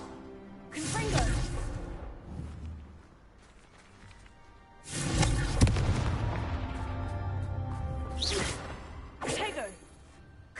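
Confringo fire spell blasts in the game Hogwarts Legacy: several loud whooshing explosive bursts with rumbling tails, spaced a few seconds apart, and a voice speaking between them.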